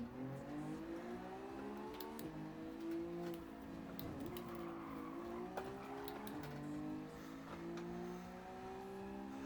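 Racing cars in Gran Turismo, engines droning and shifting pitch as they accelerate through a race, with occasional brief tire noises; steady and continuous throughout.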